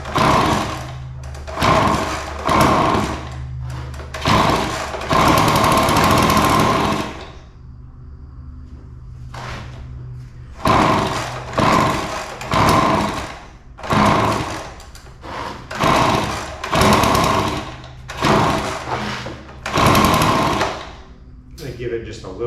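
An Echo PB-265LN leaf blower with a missing carburetor part, its small two-stroke engine revving in repeated bursts that fall back to a rough idle between throttle blips, loud and close, with someone talking at times.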